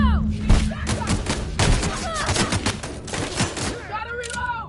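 Rapid gunfire in The Outer Worlds video game, a loud close fusillade of overlapping shots with thuds and whizzing effects, while a voice speaks over the shooting.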